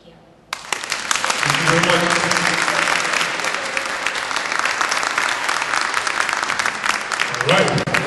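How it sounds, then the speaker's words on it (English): Applause from an audience after a speech breaks out suddenly and holds as loud, dense clapping for several seconds, with a few voices briefly audible beneath it. "Can you please give one more round of applause, please, for her?"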